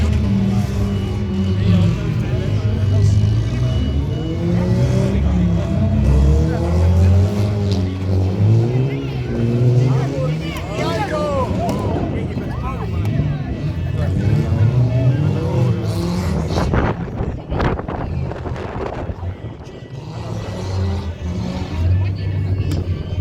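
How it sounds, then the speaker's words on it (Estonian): Race cars at an amateur motorsport event drive around with engines droning and shifting pitch, passing near and far, while a commentator talks over them throughout. "4 autot liiguvad, ülejäänud seisavad."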